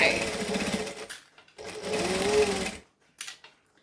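Sewing machine stitching a sling bag, two short bursts of rapid mechanical stitching with a brief pause between, close and fairly loud, with someone talking over it.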